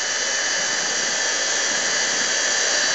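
An embossing heat tool heat-setting embossing powder on vellum gives a constant, close, loud high-pitched whirring blow with no variation.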